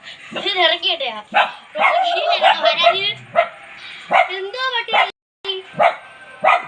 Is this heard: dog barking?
yes